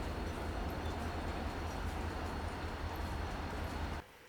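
A steady train rumble and rattle plays as a sound effect in an audio drama scene of a young girl riding a train, continuous and fairly loud, then cutting off abruptly near the end.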